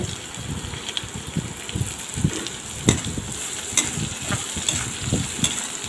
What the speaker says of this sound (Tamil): இப்போ வெங்காயம் போட்டு நல்லா வதக்கிக்கணும்.